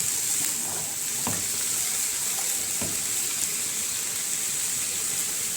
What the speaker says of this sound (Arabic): اشلوحها بقى تشويحه حلوه، شلوح شلوح شلوح لحد ما تدبل بقى معايا كده